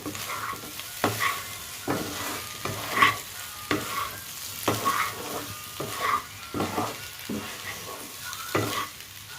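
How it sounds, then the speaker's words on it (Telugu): A spoon stirs egg yolk fry with lemon and mint in a hot pan, making a soft sizzle broken by roughly a dozen rhythmic scraping strokes spaced about a second apart, close and clear, with no speech. "నిమ్మకాయ పుదీనా వేసిన తర్వాత ఒక్కసారి కలిపేసి స్టవ్ అనేది కట్టేయడమే"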